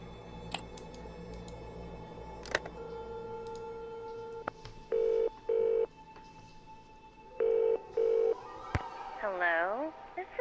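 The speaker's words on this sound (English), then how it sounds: "Let's insert phone card." A payphone in the Nancy Drew game The Haunting of Castle Malloy takes a phone card and is dialed, giving clicks, four short beeping dial tones in two pairs, then a warbling ring signal over a quiet hum.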